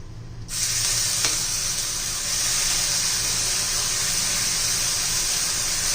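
Leftover-rice uttapam batter hits a hot pan and sizzles loudly and steadily, a continuous close hiss that starts abruptly and carries on without a break.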